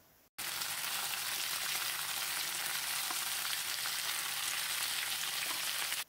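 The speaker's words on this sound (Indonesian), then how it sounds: "Kemudian masukkan ayam yang tadi sudah direbus, diaduk-aduk sebentar." Loud, steady sizzling of boiled chicken frying and being stirred in a hot pan, a continuous crackling hiss after a brief quiet start.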